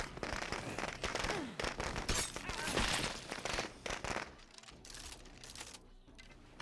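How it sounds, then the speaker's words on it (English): Fireworks go off in the zombie survival game State of Decay 2, with dense crackling and popping bursts that run for several seconds before thinning out toward the end. "What good are fireworks if the fucking zombies don't listen to them?"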